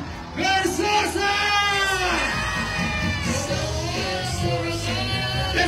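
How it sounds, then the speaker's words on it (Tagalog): A rally crowd in Tondo, Manila yells and cheers loudly and continuously, whoops and shouts overlapping with a bellowing amplified voice at the outset. "Magpalakpakan na may kasamang hiyawan!"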